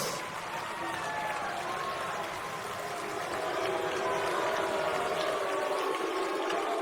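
Sustained applause from a large audience during a presidential address to the nation in El Salvador, a dense, steady wash of clapping that carries on throughout without pause.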